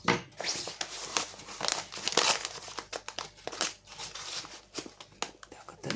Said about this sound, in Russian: Другую посылочку. Другую растюшку откроем.